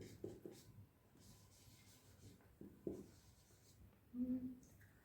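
Faint scratching strokes of writing on a board, a few soft scrapes and taps spaced across a quiet room, ending in a slightly louder stroke.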